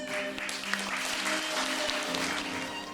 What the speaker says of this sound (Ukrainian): І ці оплески для вас.